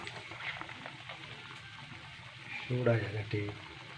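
Coconut oil heats in a pan for a Kerala-style tempering, giving a steady low sizzle that swells into a brief louder crackle near the end, close by, with a faint voice in the background.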